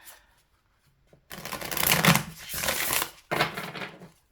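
Tarot cards are shuffled and laid out close by, giving papery riffling and sliding bursts after a quiet start, with a brief pause between handlings.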